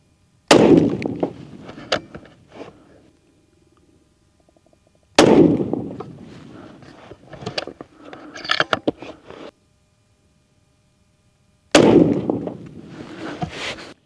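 Three sharp rifle shots fired with Hornady Match ammunition, spaced several seconds apart, each a loud close crack with a short echoing decay, and faint handling noises between them.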